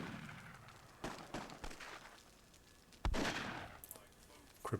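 A burst from an explosion in the strategy game Myth II: Soulblighter, a sharp loud bang with a noisy tail, set among other short thuds and impacts of a tournament match, with faint talk underneath.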